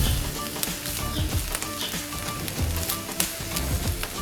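Masala frying in a pan for bread pakora, a steady soft sizzle with light crackles and pops, close and without talk.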